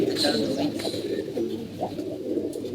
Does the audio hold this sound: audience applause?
no